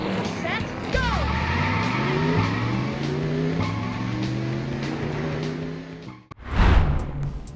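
Race cars roar in an arcade racing game, engines revving and rising in pitch with tire squeals and a sudden crash-like burst near the end, under a narrator's voice.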